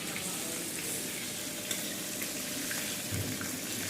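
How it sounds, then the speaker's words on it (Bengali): Fish frying in a pan, a steady close hiss and crackle of hot oil sizzling continuously with small pops and stirring noises. "দেখুন মাছ ভাজা হচ্ছে।"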